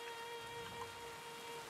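Steady rain falls in Red Dead Redemption 2, a soft continuous hiss with faint pattering, alone with no voices and a low constant tonal hum running underneath.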